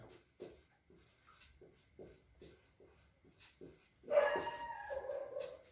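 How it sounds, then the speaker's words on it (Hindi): Dogs barking at night, a string of regular, moderately distant barks followed by a louder, closer burst of barking and yelping near the end, with no one talking. "कुत्तों वगैरह की आवाज आने लगती है"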